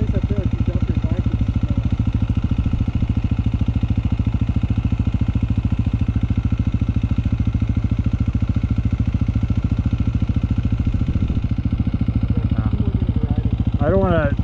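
A dirt bike engine runs steadily on a trail, a loud continuous mid-pitched drone close by that holds level throughout, with a brief rising rev near the end.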